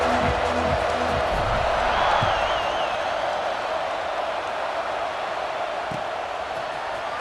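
Stadium crowd in College Football 26 roars in a steady, dense wash after a scoring drive, with a faint whistle-like tone briefly rising above the noise.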